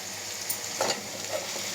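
Chopped onion goes into a hot pan of oil for kara kuzhambu, a close, continuous hiss and sizzle with a brief louder crackle as the pieces land.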